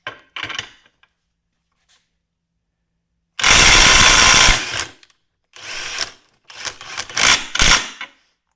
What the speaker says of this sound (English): it took it, what, 3-4 seconds maybe to do breakaway 250 foot-pounds with an 18 volt, 20 volt brushless impact driver from Metabo